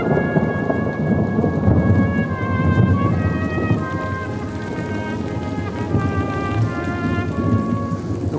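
Heavy rain pours down steadily in a garden, a dense continuous patter on surfaces with deep rumbling underneath, and it stays loud throughout with no voices.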